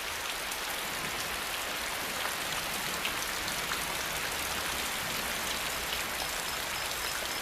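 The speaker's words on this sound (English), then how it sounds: "canopy of the forest breaks the force of the rain and stops it from washing the topsoil away" Steady rainfall pattering densely on an Asian tropical rainforest canopy, a constant soft hiss of drops on leaves with no voices.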